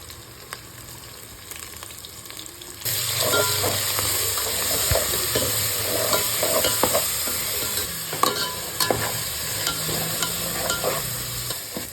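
Ground onion, mint and green chilli paste frying for mutton biryani, a loud continuous sizzle that jumps up sharply after a few seconds, with spatula stirring and scraping throughout, no talking.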